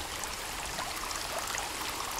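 Drinking from a frozen-over lake in the survival game Sons of the Forest, heard as a steady, close rush of gurgling, trickling water with no talk.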